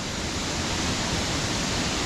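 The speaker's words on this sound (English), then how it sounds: "But this waterfall itself, the main one, is spectacular." Water pours down the main fall at Harmby in a constant dense rush, a near and loud wash of spray on rocks that never lets up, with no voices over it.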